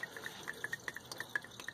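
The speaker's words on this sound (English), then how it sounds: "It's drained out, it's just dripping here." Transmission fluid drips steadily from the drain hole of a 2012 Honda Civic, a quick, irregular run of faint, close liquid plinks with no voices.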